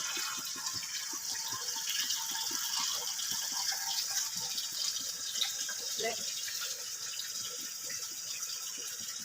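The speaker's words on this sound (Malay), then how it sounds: "Masukkan air dengan secukupnya." Water runs into a cooking pot for fish curry, a steady, soft hissing pour that continues for several seconds at low volume.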